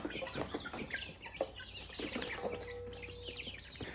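Chickens cluck and murmur steadily throughout, a soft, busy chorus of hens close by with a few sharper calls mixed in.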